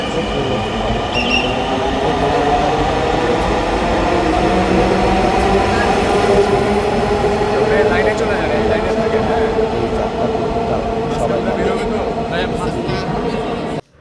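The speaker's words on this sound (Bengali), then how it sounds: "চলে গেল সেই ট্রেনটি আসলে আমাদের ছিল না" A metro train passes through a station on a Bangladeshi metro rail line in a long, loud, continuous rumble with wheel squeal and clatter. A voice speaks briefly over it before it cuts off abruptly.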